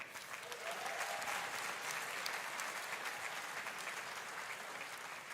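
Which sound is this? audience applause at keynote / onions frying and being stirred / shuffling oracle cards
audience applause at keynote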